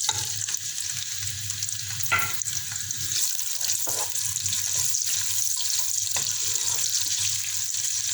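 Chopped onions dropped into hot oil in a cooking pot for palak chicken, giving a continuous close sizzle and frying hiss with a few scraping stirs of a utensil against the pot.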